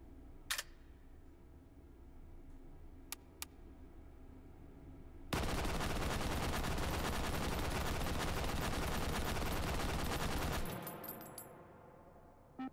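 An H&K gun with a drum magazine in the VR shooting game Hot Dogs, Horseshoes & Hand Grenades, firing one long, loud, sustained automatic burst of about five seconds, with a few isolated sharp shots and clicks before and after.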